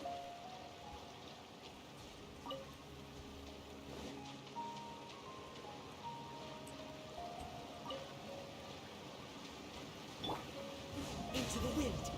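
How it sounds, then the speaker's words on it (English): A heavy rain downpour in the game Genshin Impact, a steady soft hiss of falling water with scattered drops, faint and continuous, with quiet game sounds over it. "Taking a stroll in the middle of a downpour certainly rouses the spirit."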